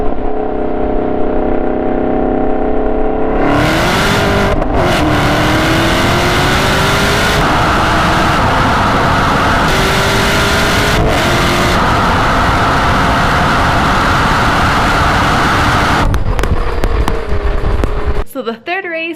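A Camaro ZL1 and a Nissan GT-R launch in a drag race, their engines roaring loud and close with pitch climbing steadily through sustained acceleration before cutting off abruptly near the end, with possible voices underneath.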